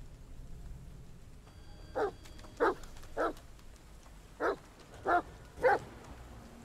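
A dog in the horror video game The Medium barks six times in steady, sharp, fairly near bursts over a quiet ambient background.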